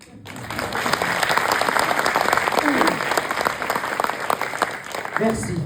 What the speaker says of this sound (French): Merci mesdames et messieurs pour ces applaudissements si chaleureux.